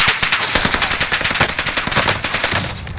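Rapid automatic gunfire in Call of Duty Warzone on the Caldera map, a dense, loud stream of shots with sharp repeated cracks filling the whole stretch without talk.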